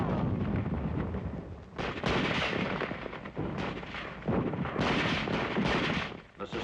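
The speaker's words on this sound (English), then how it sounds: "The sustained fire forces the enemy into an open field." Sustained gunfire and artillery from World War II combat in the Pacific, December 1944, with dense, continuous booms and shots crackling through a worn newsreel soundtrack in rolling, heavy bursts.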